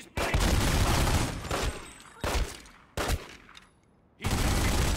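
Sustained bursts of automatic gunfire in The Godfather video game come loud and close, with four dense volleys separated by short pauses and echoing tails. No one speaks.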